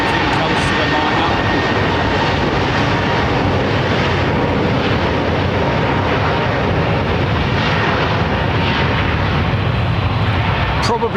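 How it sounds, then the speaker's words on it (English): An Icelandair Airbus A320neo-family jet at London Heathrow gives a loud, steady engine roar that fills the whole stretch, close and continuous with no break. "Probably the most versatile aircraft in the world, the A320neo / 321, certainly the XLR."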